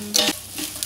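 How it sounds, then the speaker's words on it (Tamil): Brief scraping stir of sautéed plantain in a pan, a couple of soft scrapes over a low sizzle, close and fairly quiet. "இப்படி நல்லா கிளறி விட்டுக்கிட்டே இருக்க வேண்டியது தான்"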